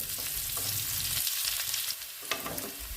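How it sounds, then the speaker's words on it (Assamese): Ginger and garlic frying in a pan, a steady close sizzle with brief stirring scrapes throughout. "আদা নহৰুখিনি ভাজি ল'ব লাগিব"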